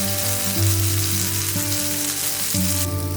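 Poha uttapam frying in oil on a pan, a steady close sizzle that runs throughout, with kitchen background hum beneath it and no talking.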